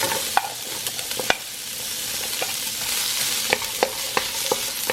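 Carrots for pansit bihon fry in a pan with a steady bright sizzle, punctuated by irregular sharp clicks and scrapes of a utensil stirring, close up and with no talk.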